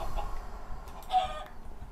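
A Minecraft chicken in the Stoneblock modpack gives a few short, soft clucks, brief and fairly quiet against a low background.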